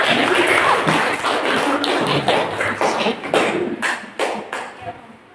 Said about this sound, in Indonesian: berikan aplaus nomor 3